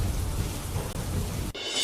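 Heavy, unbroken monsoon rain over villages of Jamkandorna in Rajkot, Gujarat, a dense roaring downpour that fills the whole sound and cuts off abruptly near the end.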